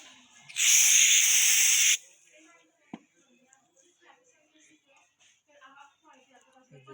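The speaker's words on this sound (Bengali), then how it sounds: "তো আমরা এখানে হাই প্রেশার গ্যাসটা ব্যবহার করব।" High-pressure gas blasts from a can to clean out a gas stove burner, a loud hissing burst lasting about a second and a half, followed by faint tapping and quiet handling noises.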